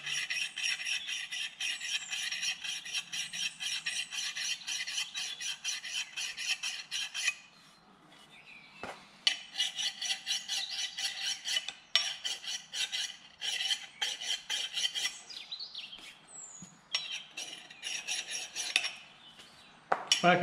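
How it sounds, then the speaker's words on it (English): A file hones the edge of a carving axe with light, rapid rasping strokes back and forth, close and crisp, pausing briefly before the rhythmic scraping resumes. "So just do light pressure now and hone it, just barely using the weight of the file."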